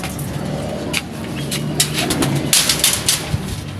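Soft, repeated pigeon coos against a steady outdoor background, with light rustles and flutters nearby and faint traffic hum.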